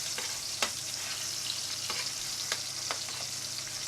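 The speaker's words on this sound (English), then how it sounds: "Keep turning them over as I am doing here to brown evenly on all sides." Partridges sear and brown in a hot pan for Indian-style roast partridge, a steady close sizzle broken by a few sharp spatters and scrapes as the birds are turned.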